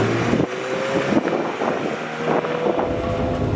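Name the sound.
Ferrari F355 Spider driving with roof down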